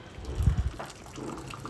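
Strained strong milk tea poured into a cup, a short soft liquid splash and trickle lasting about a second, close and fairly quiet.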